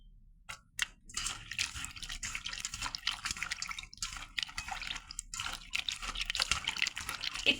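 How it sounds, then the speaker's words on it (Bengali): Water running and dripping as winter vegetables are washed, irregular close splashes and trickles, fairly quiet, with small clicks between. "আমি আরেকবার ধুয়ে নেব।"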